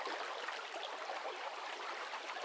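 Soft, continuous rushing and trickling of a river flowing, even and unbroken, fairly faint and heard alone without voices.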